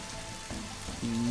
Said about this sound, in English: Let's give it some rain.